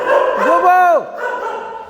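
Dogs bark and yowl nearby in long, drawn-out vocal calls that rise and fall in pitch.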